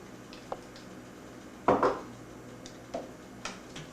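A utensil clinks and scrapes in a bowl as margarine, milk and vanilla are mixed into cookie icing, a few sparse close knocks with one louder scraping burst in the middle.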